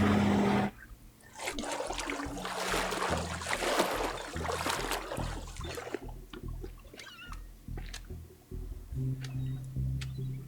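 A vehicle plunges into water in the destruction game Teardown, with a broad splashing, gurgling wash that follows a low tone, then settles into trickling and bubbling with scattered clicks.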